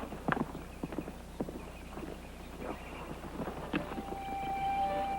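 Horses ride off at a gallop, a cluster of hoof clip-clops sounding at close range and then fading under a rising wind-like rush with a faint whistling tone near the end.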